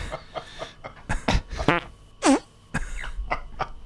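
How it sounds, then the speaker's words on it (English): A series of short, sputtering farts in a room, several bursts in uneven rhythm with one louder, longer squeak in the middle, fairly close and clear. "No farting in here."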